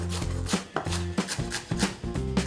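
A kitchen knife chops scallion greens lengthwise on a cutting board, a quick run of sharp rhythmic thuds in close succession.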